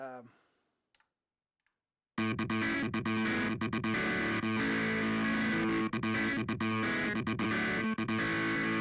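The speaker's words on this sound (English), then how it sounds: "how's it get that distortion on there?" An electric guitar played through an overdriven amp for a rock lesson: a brief quiet note, a pause, then loud, thick distorted chords and riffs with choppy rhythmic breaks.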